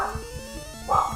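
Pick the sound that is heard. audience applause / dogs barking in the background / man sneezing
dogs barking in the background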